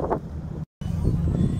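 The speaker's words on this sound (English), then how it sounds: "it's really windy out there, so you may not be able to hear me as well" Wind gusting outdoors on a lake shore near Lexington, Michigan, a steady low rumble of buffeting against the microphone, broken by one brief dropout partway through.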